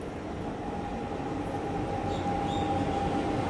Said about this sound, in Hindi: ये आ गई सिकंदराबाद यानी कि हैदराबाद से शालीमार को आने वाली एक्सप्रेस ट्रेन